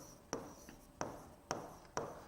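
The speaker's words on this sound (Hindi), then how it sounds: "यहां पर मैं लिखता हूं" Four sharp, evenly spaced strokes of marker or chalk on a classroom board, each a quick scratch with a short fading tail, close and fairly quiet with no talk over them.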